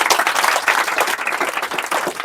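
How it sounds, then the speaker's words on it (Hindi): Students in a class 10 science classroom clap together in a short burst of brisk, dense applause, close and fairly loud, with no talk over it. "सवाल दिया है, उसके लिए एक बार जोरदार ताली हो जाना चाहिए।"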